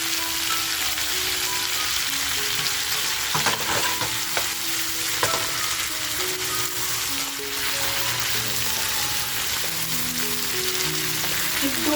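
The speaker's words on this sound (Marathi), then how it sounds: "आता जे आपण मटण उकळून घेतलेलं आहे इथे आपल्याला 1-2 मिनटं फ्राय करून घ्यायचे." Boiled mutton frying with browned onions in a pan for spicy mutton kharda gives a steady, loud sizzle with scraping stirs throughout, close up. No one speaks.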